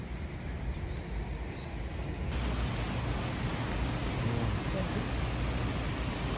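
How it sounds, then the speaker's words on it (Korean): Heavy rain pours down outdoors as a dense, steady hiss that grows louder partway through and then stays strong, with a faint voice now and then beneath it. "지금 비가 오고 있습니다."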